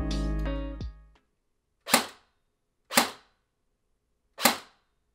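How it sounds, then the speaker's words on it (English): Crytek CRB airsoft AEG rifle fired without a suppressor: three separate sharp snapping shots, clear and fairly close, spaced about a second apart after a brief tonal sound at the start. "This is how the rifle sounds without the suppressor attached."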